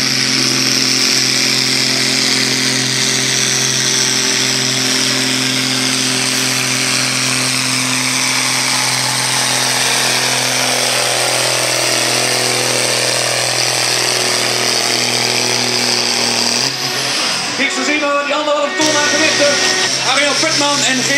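A competition tractor at a Tonden tractor pulling event in the 5.5-ton hobby sport class roars loud and close, a sustained engine drone that climbs steadily in pitch, then breaks up and shifts abruptly near the end.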